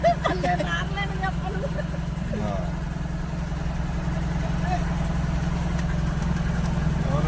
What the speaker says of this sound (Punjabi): ਨਿੱਕੇ ਨਿੱਕੇ ਟਰੈਕਟਰ ਜਾ ਰਹੇ ਵੇਖੋ ਜੀ